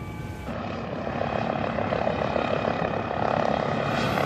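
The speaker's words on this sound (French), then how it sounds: "Cela fait 4 ans que Dominique Simoneau pilote des hélicoptères au-dessus de Hong Kong." Steady broadband engine drone of a helicopter flying nearby over Hong Kong, a continuous rotor and turbine roar that holds level throughout with no voices.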